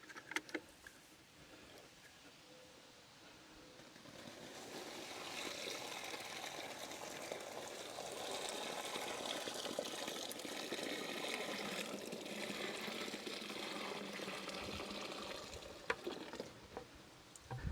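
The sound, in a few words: pouring wet biochar into a feed bag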